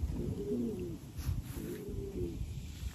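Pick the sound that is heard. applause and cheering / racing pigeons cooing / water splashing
racing pigeons cooing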